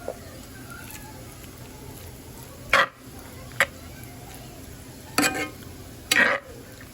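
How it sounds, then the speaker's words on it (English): Chicken cooking low and slow in butter and oil in a cast iron pan gives a steady, faint sizzle, broken by a few short, sharp clatters near the pan, with no voices. "I'm gonna put my chicken in now because I'm cooking this low and slow"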